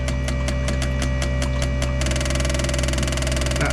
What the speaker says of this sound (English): I run the injectors at different engine speeds to see if there's a fault with the injector when it's run at a different speed.